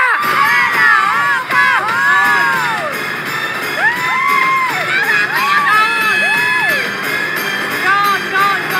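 A game show studio audience during a cash-or-box jackpot round shouts and cheers loudly at close range, with high excited yells and whoops rising and falling in repeated bursts over a constant crowd roar.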